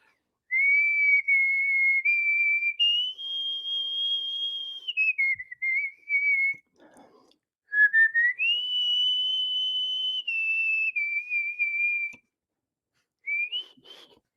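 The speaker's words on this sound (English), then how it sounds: "Whistle the Spanish song." A person whistles a Spanish song as a clear, loud, close melody made of sustained tones that step up and down, broken by brief pauses and a longer gap near the end.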